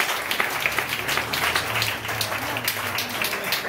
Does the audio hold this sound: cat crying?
no